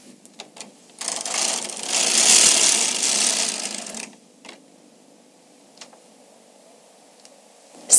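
A Bond Elite knitting machine carriage rasps across a row in one continuous sliding, clattering pass lasting about three seconds, then quiet clicks and small mechanical taps follow.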